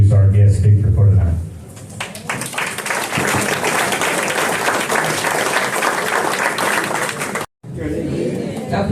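Audience applause for scholarship recipients at a county sports hall of fame honors ceremony. A steady crowd clap swells after a brief pause and runs for several seconds, then cuts off with a short gap, with voices mixed in.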